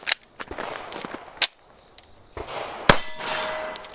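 Mossberg MC2c pistol firing after a hard-primer misfire: a few sharp metallic cracks and clangs spread across a few seconds, loud and close, with quieter handling noises between them.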